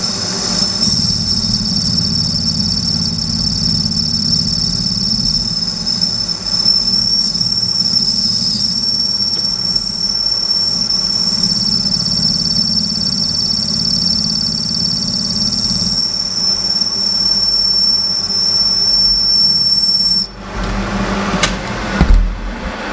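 A small cutter mills a bolt slot, boring about 8 mm wide and 15 deep, producing a loud, continuous machining drone with a steady high whine that cuts out near the end.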